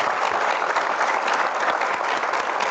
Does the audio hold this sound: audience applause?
yes